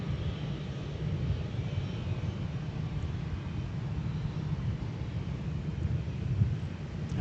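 A heavy Airbus jet departing from MSP airport sends a steady, distant, low roar across the field, holding at an even, moderate level throughout with no voices over it.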